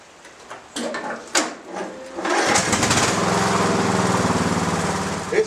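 Lawn mower on a recovered lead-acid battery with one bad cell, a few scattered clicks and knocks, then the small engine catches and runs with a loud, steady, rapid chugging buzz through the rest.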